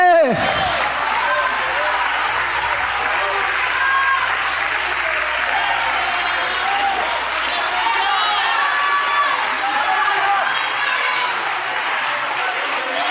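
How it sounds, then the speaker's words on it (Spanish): A church congregation stands and applauds for a long stretch, steady dense clapping and crowd noise filling the room, with voices underneath. "Ponte en tus pies y dale un aplauso al Señor Jesucristo, por favor."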